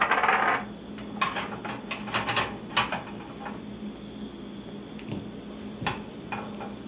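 Dry chilies hit hot oil for an Indian tadka, giving a short burst of loud hiss and sizzle that settles into quieter crackling with scattered light clicks and taps from the pan.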